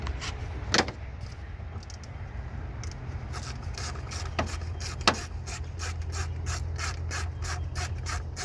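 A ratchet backs out 10mm bolts from an engine plate on a 1999 to 2006 GM engine, bursts of rapid clicking pawl strokes with short pauses between turns, close and moderately loud over a low background hum.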